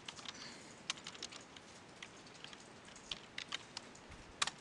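Computer keyboard typing during a tilemap coding session, quick scattered keystrokes with a few sharper shortcut presses, faint and fairly close, with no voices.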